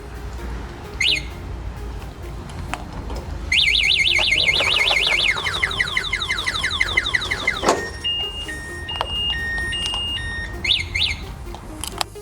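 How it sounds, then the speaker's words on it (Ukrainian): The anti-theft alarm on a MAXXTER RUNNER electric scooter sounds loud and close, with rapid chirping warbles followed by shifting electronic beeps and tones. It keeps going for several seconds, with short chirps before and after. "До речі, сигналка тут також є. Антизлодій працює."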